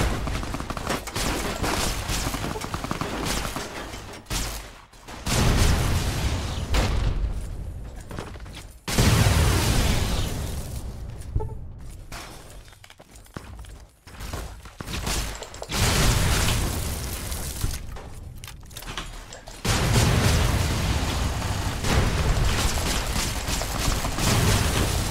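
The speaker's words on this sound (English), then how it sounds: "Just blind fire, it works surprisingly well." Rapid bursts of blind-fired gunfire in the video game Fallout New Vegas, loud sustained volleys separated by short quieter gaps, with mechanical clicks and booms mixed in.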